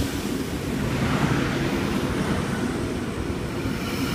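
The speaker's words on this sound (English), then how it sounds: "There's a K-set approaching platform number 2, Schofields service, stopping at Schofields only." A Sydney Trains K-set pulls into platform 2 at Quakers Hill station, a steady, loud, low rumble of wheels and carriages rolling past without a break.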